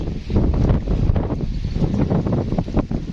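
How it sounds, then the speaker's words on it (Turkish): Strong wind buffets the microphone in loud, continuous gusts beside wave-tossed water while trout fishing, with a rushing roar that swells and dips throughout. "acayip rüzgar çıktı"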